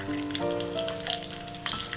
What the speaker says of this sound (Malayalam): ഇനി ഈ നെയ്യിലേക്ക് നമുക്ക് തേങ്ങാക്കൊത്ത് ചേർക്കാം.